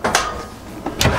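A large storage drawer in a 2018 Rockwood 23IKSS Roo hybrid expandable camper trailer slides open or shut, giving two short broadband knocks about a second apart, close by and moderately loud.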